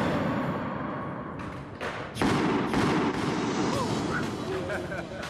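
An explosion launches a bucket into the air, a sharp loud thump with a burst of noise after a short buildup, amid crowd sounds.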